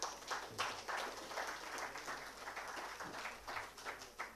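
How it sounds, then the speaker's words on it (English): Audience at a legal and privacy summit giving a round of applause as panelists come on stage, fairly faint, uneven clapping with pulsing swells throughout. "Big round of applause for all of them."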